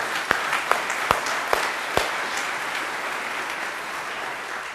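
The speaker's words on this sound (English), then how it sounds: "We can applaud that as well." Audience applause during a speech about public schools, a broad steady wash of clapping from a crowd with a few sharper individual claps standing out near the start.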